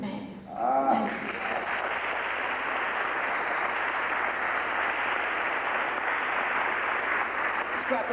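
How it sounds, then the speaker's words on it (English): Audience applause for a speaker at an inspirational talk, a sustained, even wash of clapping that rises after a brief soft voice at the start and holds steady at moderate loudness throughout. "Let's clap it up for Sister Abiola Valentine"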